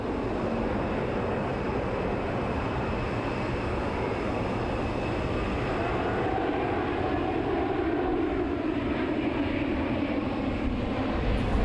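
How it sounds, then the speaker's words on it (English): An Airbus A380 arrives at the Farnborough International airshow in 2006. Its engines make a loud, steady, broad roar that holds throughout without breaks or voices. "the biggest star of Farnborough International 2006 was the arrival of the Airbus A380"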